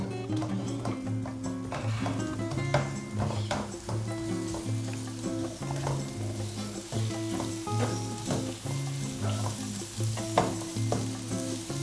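Onions frying in a pan for Japanese curry, with a continuous even sizzle and frequent spoon-stirring clicks against the pan, steady and fairly close, with no talking.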